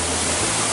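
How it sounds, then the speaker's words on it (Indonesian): Steady, broad rushing water roars evenly from Curug Muara Jaya waterfall in Majalengka, Indonesia, close by, constant and unbroken with no voices. "ini air terjun ini sudah sejak kapan adanya"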